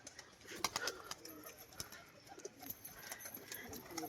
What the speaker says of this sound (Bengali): এই হচ্ছে মাদি পায়াটা